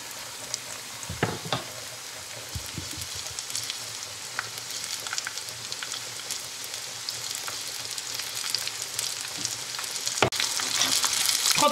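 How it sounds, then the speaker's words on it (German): Thin pieces of chicken sizzle steadily in a little oil in a pan over medium heat, a continuous close crackle with a few sharper pops and clicks and a slight rise in intensity toward the end, with no one talking. "Meine Pfanne, Stufe 4 von 6, ein bisschen Öl und das Hähnchen einlegen"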